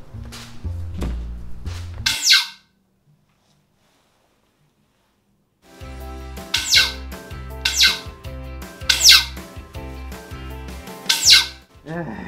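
A homemade multi-barreled, shoulder-mounted PVC war horn built from squeaky toys is blown in loud squawking honks with thumps, then falls silent for a few seconds before several more honking bursts.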